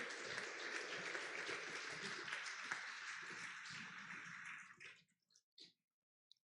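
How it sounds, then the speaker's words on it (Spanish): A church congregation applauds during a Spanish-language sermon, a steady wash of clapping that holds for several seconds, then fades out with a few scattered last claps. "denle un aplauso a Él"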